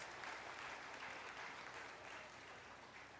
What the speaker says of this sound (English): Let's give P.S. King a big round of applause for gracing us with his presence.